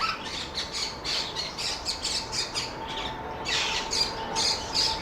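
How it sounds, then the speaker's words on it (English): Lovebirds and parrots in a mesh-covered aviary squawk in quick repeated bursts, a shrill chattering chorus that continues throughout at moderate distance without human voices. "in behind here, making all that squawking, we've got a lovebird"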